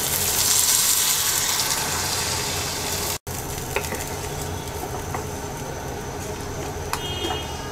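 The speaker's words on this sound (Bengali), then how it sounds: "এবার ঝোলের জন্য 3 কাপ পানি দিয়ে দিচ্ছি।" Water is poured into hot egg curry in a pan, giving a loud rushing hiss for a few seconds that breaks off abruptly and gives way to a softer, steady bubbling sizzle with faint clinks.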